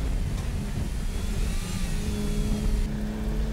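A tuned race car engine drones and revs steadily on a wet, treacherous track during a tuner battle, loud and continuous with shifting pitch as the car pushes on, with no one talking.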